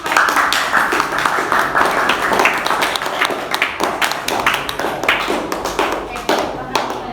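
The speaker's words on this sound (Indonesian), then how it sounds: "beri tepuk tangan dulu." A classroom of students claps for a group about to present, a loud close burst of individual hand claps in an uneven rhythm that carries on for several seconds, with some faint voices underneath.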